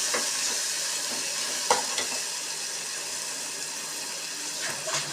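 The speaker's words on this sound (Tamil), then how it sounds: "இந்த காஞ்சராட்டை எடுத்து போட்டு அதோடு சேர்த்து நல்லா கிண்டிடணும்." Dried prawn thokku fries in a pan and is stirred, making a steady crackling sizzle broken by a few sharp scrapes of the spoon against the pan, with no talking.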